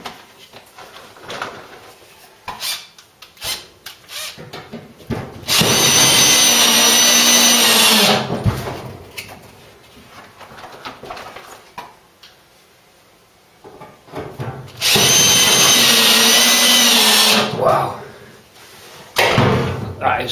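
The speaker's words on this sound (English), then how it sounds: "drill these out using the spot weld cutter" Two loud, sustained bursts of high-pitched power-tool whine from a spot weld cutter drilling out spot welds on a Ford Cortina Mk3, each lasting a few seconds, separated by quieter clunks and handling noises.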